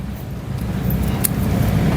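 Vehicles roll over a mud-cleared road in Lemery, Batangas, after a typhoon, making a steady low traffic rumble with a faint clink near the middle.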